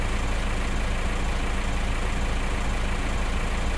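An old tractor idles in Farming Simulator 2015, a steady, loud, low diesel rumble that holds constant with no voices.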